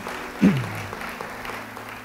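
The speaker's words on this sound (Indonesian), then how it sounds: "Yang percaya, beri tepuk tangan bagi Tuhan." Church congregation applauding during a sermon, a steady wash of clapping from many hands across a large room, with no speech over it.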